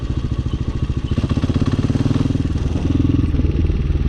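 A High West Hawk 250cc street-legal dirt bike engine runs steadily and loud nearby, its rapid pulsing thump rising briefly in pitch as the rider shifts gears and lets the clutch out.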